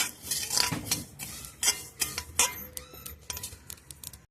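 Mustard seeds, about 100 grams, stirred in a pan over a low flame for sambar powder, giving a close run of light metallic scrapes and ticking clinks in uneven bursts, with no talk.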